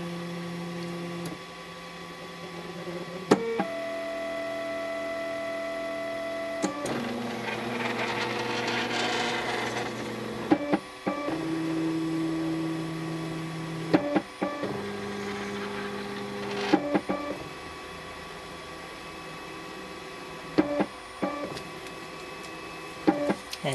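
A 3D printer runs its build plate leveling script, with stepper motors whining in shifting tones through a series of moves separated by short clicks and pauses, near and steady, with no voices.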